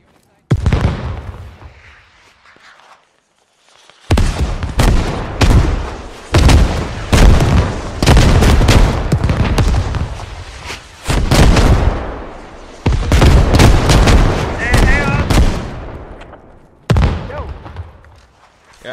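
Gunfire and artillery blasts in the military shooter game Squad, heavy overlapping bursts of shots and booms in rapid clusters across most of the stretch, loud and dense, with brief quieter gaps between volleys.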